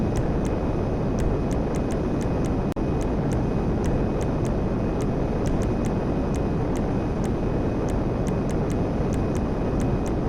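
A Hydra jet in GTA 5 Online flies on with a steady, dense roar that fills the whole clip. Faint regular ticks run through it and there is a brief dip near the three-second mark.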